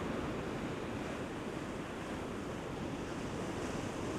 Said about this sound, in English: stare out the beautiful ocean